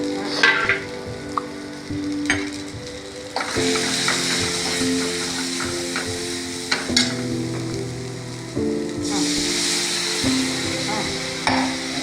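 Turmeric and chili powder masala frying in a pan for an egg curry, a steady loud sizzle with occasional clinks of a spoon stirring, no talk.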